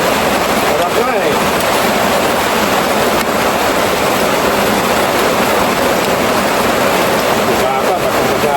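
Heavy rain pours steadily and loudly in a dense, unbroken hiss that lasts throughout, with faint voices buried beneath the downpour.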